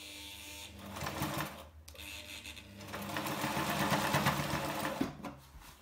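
A sewing machine stitches a foldable reusable tote bag, running close and loud in long continuous bursts. There is one brief pause near the middle and a short break before the final run.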